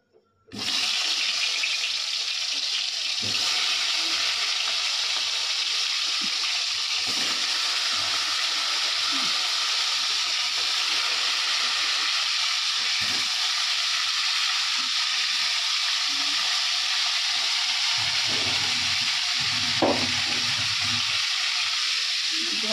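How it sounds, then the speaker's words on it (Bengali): Fish rubbed with salt and turmeric fries in oil with a steady, dense, hissing sizzle that runs continuously and loud, with a few faint clinks and knocks underneath. "মাছটা ভাজা হোক"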